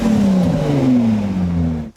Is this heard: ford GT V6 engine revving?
yes